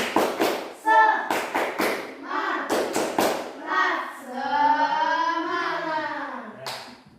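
Group of people clapping a rhythmic tepuk semangat chant in a school session, sharp claps in bursts mixed with voices calling along, followed by a sustained spoken or sung phrase.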